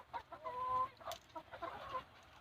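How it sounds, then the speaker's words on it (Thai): Chickens clucking while feeding at a coop, several soft overlapping clucks and short calls in irregular bursts, fairly close and moderately quiet. "อันนี้ไก่กำลังกินข้าวกันอยู่"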